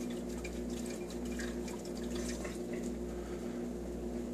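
Aquaponics fish tank siphon breaking, a steady wash of trickling, gurgling water running continuously throughout at a low, close level with no talking.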